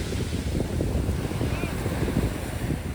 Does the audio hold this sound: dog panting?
no